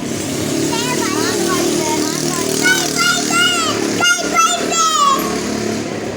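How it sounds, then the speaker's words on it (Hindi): A motorbike passes close by in a busy street, its rising engine whine sweeping past loudly while children and adults talk over it. "इसकी वो ना बाइक निकल के गई है, उसकी आवाज़ से डर गई है"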